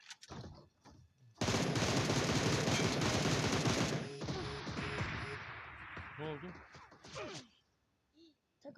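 A dense burst of rapid gunfire in PUBG roars for a few seconds, then fades into scattered quieter hits while voices talk over the game.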